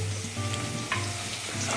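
Chowmein frying in a pan with garlic and chili powder, a dense continuous sizzle with a faint tonal hum, heard briefly and up close without talk.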